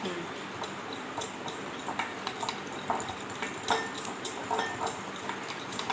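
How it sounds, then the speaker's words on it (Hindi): A utensil beating and mixing cream in a bowl for a cafe-style fruit chaat, with a run of quick clinking, scraping taps against the dish, fairly faint and irregular. "इसको हम 3 से 4 मिनट तक मिक्स करेंगे ताकि हमारी जो क्रीम है थोड़ी सी बीट हो जाए।"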